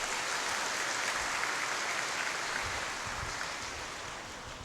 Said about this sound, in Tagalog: Bigyan natin mahal na Panginoon isa pang malakas na palakpak.